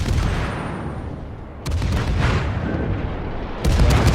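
Naval gun salvos from a World of Warships battle, a Mahan destroyer firing on the Ibuki: two heavy booming shots about two seconds apart, each jumping out over a constant low rumble of battle noise.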